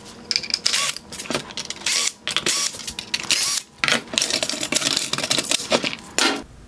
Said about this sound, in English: Now I will remove the 4 Phillips head screws holding the white trim in place